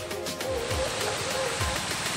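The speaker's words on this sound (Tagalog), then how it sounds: "Ang lakas ng agos ng tubig." Strong, fast water current rushing near a waterfall, heard as a steady, loud broadband roar that fills the scene without a break, with low murmuring voices faintly underneath.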